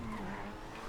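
A Progen Itali GTB Custom sports car drives in a racing video game, its tires squealing briefly over a steady engine drone, close and continuous with no talk.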